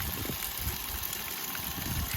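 Mountain stream near Gergeti in Kazbegi, Georgia, rushing steadily with a dense, continuous broadband roar, loud and close, with no break or voices over it.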